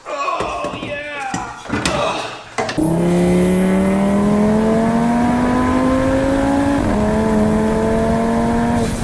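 A sheriff's car passes close by a car on the road, its engine drone rising steadily then dipping as it goes past, after a few seconds of knocks and clatter at the start.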